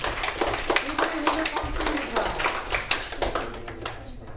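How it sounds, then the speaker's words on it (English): Students clapping in a classroom during a math lesson, a few seconds of uneven, fairly close hand claps with a loose rhythm. "Alright, clap for her too, guys."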